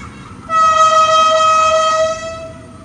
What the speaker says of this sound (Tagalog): Ang laki yung train na yan. Yun yung DL na galing doon sa Maynila.